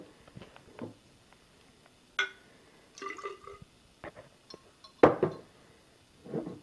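Glassware clinks and taps sparsely while a fragrance blend is mixed in a graduated container, a few sharp, bright knocks and small rattles scattered over a quiet background, close and fairly faint.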